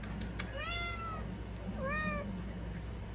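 A cat meows twice, clear rising-falling calls close by over a quiet room hum.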